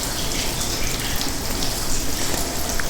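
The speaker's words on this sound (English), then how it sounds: "Waterfall." Waterfall from the audio game Blindfold Runner, heard as a dense, steady roar of rushing, splashing water, loud and unbroken with no other sounds.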